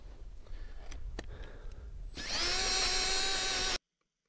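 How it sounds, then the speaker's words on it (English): A power auger starts up and bores through frozen lake ice under light snow cover, a loud steady whining drone after about two seconds of quiet outdoor ambience with a few clicks, then cutting off abruptly. "So I'm going to drill a hole now and just see how much ice we made"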